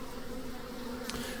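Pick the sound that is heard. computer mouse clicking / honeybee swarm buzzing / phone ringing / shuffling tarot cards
honeybee swarm buzzing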